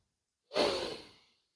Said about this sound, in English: Take a good sniff.